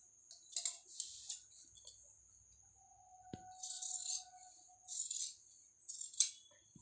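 Scissors cut through kurti fabric in several short, quiet snipping bursts, close by, with brief pauses between strokes.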